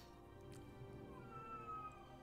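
A magical cat in a game meows faintly, a soft drawn-out cry almost buried in a steady background hum.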